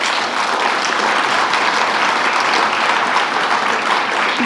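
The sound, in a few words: conference audience applause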